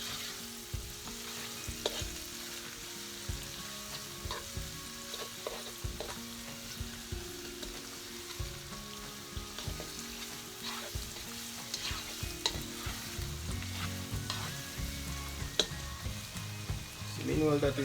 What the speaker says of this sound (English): Give it a nice little stir.